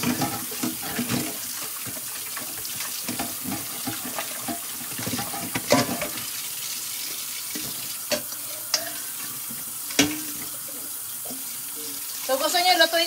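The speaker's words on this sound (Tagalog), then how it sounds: "Para gusto ko marinig yung lababo dito." Tap water runs steadily into a kitchen sink while Filipino noodles with shrimp are being prepared, with a few sharp clatters of dishes now and then and a sizzle-like hiss throughout.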